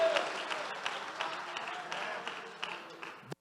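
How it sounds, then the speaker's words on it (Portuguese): A church congregation claps during a worship service. The applause is faint and somewhat distant, with scattered sharper claps, and stops abruptly at the end. "aplauda o Senhor Jesus"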